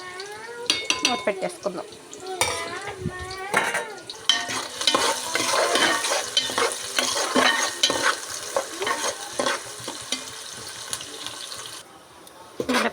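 Onions frying in a pot are stirred with steady scraping and sizzling, joined by clinks of pans and a brief burst of running water, while someone talks over it at times.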